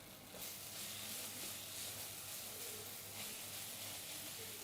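Ginger garlic paste sizzling with caramelized onions in a pan, a continuous soft hiss and crackle at low volume with slight swells, no voices.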